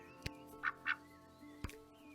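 Two short nasal quacks from a duck close by, spaced about a quarter second apart, with a couple of sharp knocks before and after in an otherwise quiet room.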